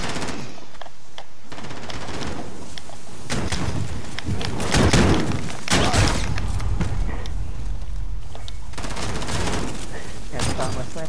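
Rapid bursts of gunfire from a sniper shotgun in a video game, loud and repeated shots with booming impacts across the whole stretch, under excited talk.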